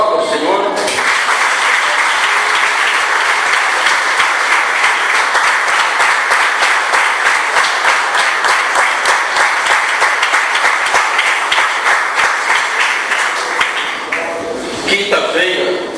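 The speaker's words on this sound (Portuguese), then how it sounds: "Aplauda o Senhor." A church congregation bursts into sustained, loud applause, dense clapping that holds steady for about thirteen seconds before fading, with voices briefly audible at the start and end.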